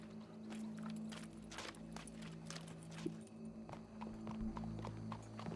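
Horse hooves clip-clop steadily in Red Dead Redemption 2, a moderate rhythmic walk under a low constant hum and a few scattered background noises.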